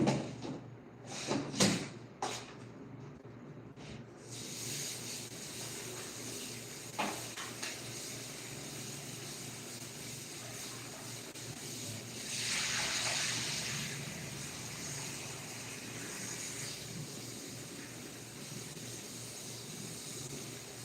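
Food being rinsed under a running kitchen tap, with dish clatter and knocks early on, then a steady stream of water flowing and swelling louder for a moment midway before settling back.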